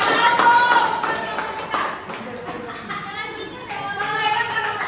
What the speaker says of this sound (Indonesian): Tepuk tangan dong anak-anak.